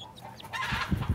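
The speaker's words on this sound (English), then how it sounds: "she's got the wings of a chicken, but the like head of a baby chick" A young chick with growing wings clucking up close, a few soft, short throaty clucks ending in louder bursts, no talking over them.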